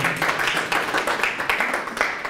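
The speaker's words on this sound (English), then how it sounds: "So don't be shy about clapping." Scattered applause from a meetup audience, a steady patter of many hands clapping through the whole stretch at moderate loudness, with no talk over it.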